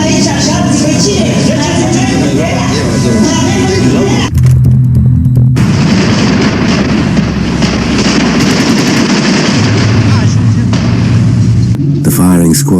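A firing squad executes a man named Nikolai with a loud, dense burst of automatic gunfire that runs through most of the clip, with shouting voices mixed in.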